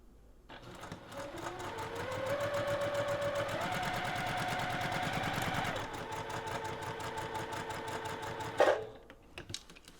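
A sewing machine stitches a passport cover in a fast, even run of needle strokes, close and steady, with a brief change in speed and a clunk near the end before it stops.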